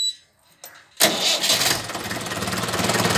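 After a quiet moment, the diesel engine of a Mahindra 475 DI tractor cranks and catches with a loud burst, then settles into a rapid, throbbing idle that grows slightly louder.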